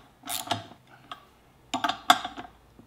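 A nut is tightened with a 3/4 socket and extension while a new Sea Star helm is installed on a 13-foot Boston Whaler. Close metallic clicks and ratcheting clatter come in two short bursts.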